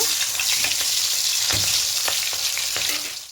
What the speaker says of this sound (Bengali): এবার তেলের মধ্যে প্রথমে মাছের মাথাটা দিয়ে দেব